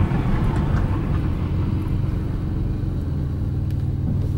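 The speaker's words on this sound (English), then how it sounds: "This is rush hour traffic in central Wisconsin." Steady low rumble of road traffic in a small central Wisconsin town, a continuous near drone of passing vehicles and engine noise with no talk.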